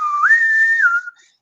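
A single human voice whistles in imitation of a Star Trek bosun's call, a clear tone that rises, holds steady for about half a second, then slides back down before fading out, heard alone without talk.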